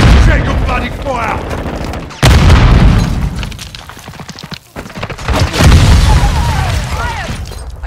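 Grenade blasts in Call of Duty Modern Warfare II on the Embassy map: loud booming explosions and scattered gunfire fill the mix, with a sharp blast partway through and shouted voices over the combat.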